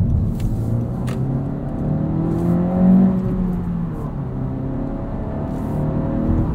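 A 2022 Honda Civic Si engine revs up and drops back quickly with little rev hang, a steady loud rumbling drone running the whole stretch, heard from inside the car with no talking.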